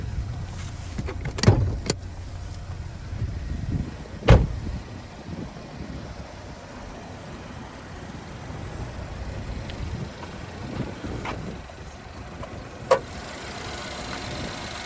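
A 2017 Chevrolet Equinox's 2.4 liter naturally aspirated four-cylinder engine idles steadily under the open hood, a low even rumble close by, with a few sharp clunks and taps over it.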